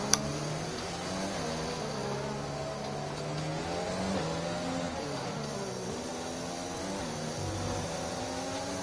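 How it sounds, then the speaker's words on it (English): A Red Bull Honda Formula One car lapping the Singapore street circuit, heard onboard: a continuous high-pitched engine whine rising and falling through gear changes and corners, loud and close, with no talk. "listen to the Red Bull car, the Red Bull Honda, on a lap around the Singapore circuit"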